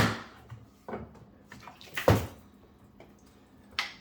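Water poured onto the lid of a ToughBuilt StackTech toolbox, a few short splashes and trickles against plastic, close and fairly quiet, with a louder splash midway.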